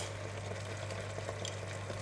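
Leek and carrots sizzle steadily in a stir-fry pan, a soft continuous frying hiss with a low steady hum beneath, no voices.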